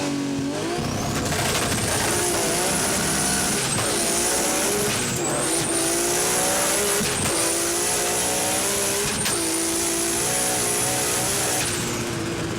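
Turbocharged Fairlady drift car recorded from inside the cabin, its engine revving hard and continuously with repeated gear changes and dips between loud, sustained pulls.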